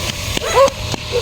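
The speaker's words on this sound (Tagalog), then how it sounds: "Oh, may mga aso." Dogs bark in a few quick, loud, close yaps with a short whining note between them, all within about a second outdoors.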